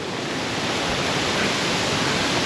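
A waterfall pours with rushing water, a dense, continuous broadband roar heard close and loud with no let-up over a few seconds.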